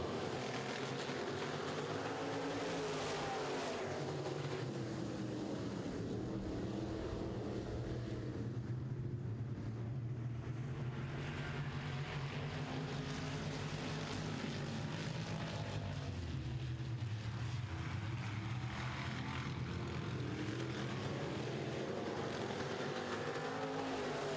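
Modified race cars in a Midwest Modifieds heat race roar around the track in a loud, continuous engine drone that swells and fades as the pack passes close by.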